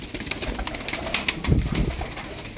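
Ankara pigeons, a Turkish breed, coo in low, soft, throaty rolls, close by over a light background hiss, with a fuller burst of cooing near the end.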